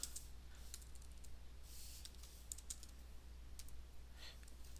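Faint, quick keystrokes on a computer keyboard while writing a status line in code, a steady stream of soft clicks over a low background hum with no talking.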